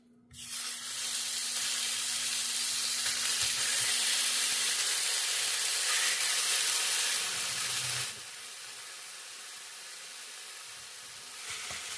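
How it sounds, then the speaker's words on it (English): Ground turkey Italian sausage dropped into a preheated pan for a breakfast casserole gives a loud, steady broadband sizzle that hisses continuously and then drops to a quieter fry partway through, close by with no speech. "in a preheated pan, I'm just going to start adding all of the sausage and just remove the casing"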